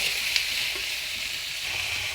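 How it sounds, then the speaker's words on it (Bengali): Radish pieces fry in an onion tempering with a loud, steady, close sizzle and hiss throughout, with a faint soft stirring touch now and then. "আলতোভাবে নেড়ে ছেড়ে কিছুক্ষণ ভেজে নেব মূলগুলো"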